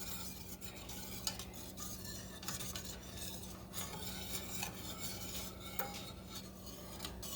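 Au gratin sauce for scalloped potatoes made with sliced canned potatoes is stirred in a pot with a spatula, a quiet, continuous scraping and swishing in a steady rhythm, with no voices.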